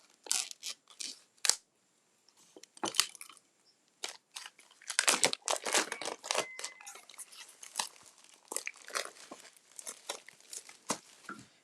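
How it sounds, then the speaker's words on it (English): Hand snips cut open a paper crafting kit package: a close, irregular run of crisp snips, crunches and papery crinkles in quick bursts, separated by short pauses, with no talking. "So I'm just going to use my snips"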